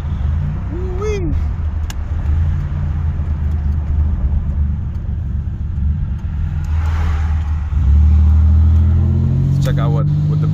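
Turbocharged Buick Grand National at a classic car meet, its engine droning steadily up close and swelling louder near the end as boost builds, with people talking over it.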